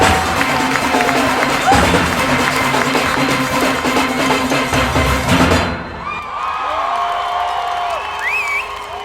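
A crowd at a UK Panorama steel pan competition cheering and clapping for a steel band, loud and dense at first, then dropping off into scattered claps and shouts with someone talking over it.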